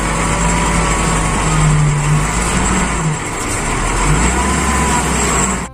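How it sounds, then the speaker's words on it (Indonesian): A sand truck drives past on a road, giving a loud, continuous engine rumble with a low drone throughout. "di sini ada mobil truk pasir"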